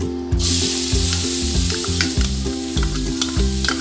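Onion hits hot vegetable oil in a kadhai, giving a bright, steady sizzle with rhythmic stirring and scraping knocks repeating about twice a second, close and fairly loud, with no voices.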